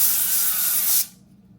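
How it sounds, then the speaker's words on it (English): Aldi extra virgin olive oil cooking spray hissing from an aerosol can in one steady, close burst lasting about a second before cutting off abruptly. "Then spray some, you know, stuff on there."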